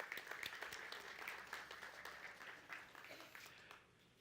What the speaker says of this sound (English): I just want to give a round of applause today to our customer care team.